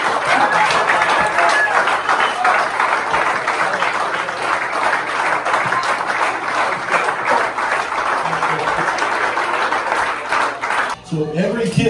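Sustained audience applause and crowd noise for Coach Sawyer at a high school football gathering, steady and dense for about eleven seconds before cutting off, with a voice starting at the end.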